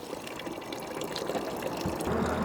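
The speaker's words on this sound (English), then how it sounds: "we're just maintaining a little body of water over the grains as the halo sparge is on" Sparge water from a halo sparge arm flows steadily over a grain bed in a three-vessel all-grain homebrew setup for a German Helles lager, making a continuous, fairly quiet trickling gush that swells slightly toward the end.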